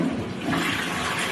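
A newly installed toilet in a made-over bathroom flushes with a close, steady rush and swirl of water, no voices over it.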